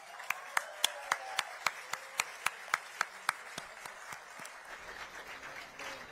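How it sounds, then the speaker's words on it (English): Audience at the Vem Cantar singing competition finals gives sparse, sharp claps in a steady rhythm from a few hands, then fades into a softer scattered patter with murmuring. "A big whoop and round of applause from the audience"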